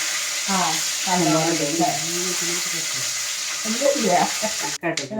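Curry leaves frying in hot oil for a taro and tapioca curry: a steady, close sizzling hiss runs throughout beneath a person talking.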